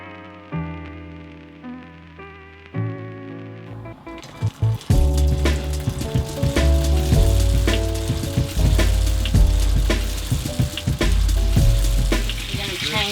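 Crab spring rolls frying in hot oil in a pan give a loud, constant crackling sizzle that swells in after a few seconds, under steady background music.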